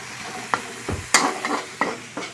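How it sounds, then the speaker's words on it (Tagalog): Tomatoes fry in a pan and are stirred with a utensil: irregular scrapes and knocks come every half second or so over a soft continuous sizzle. "Imikos-mikos natin hanggang sa maluto ng gusto ang ating kamatis."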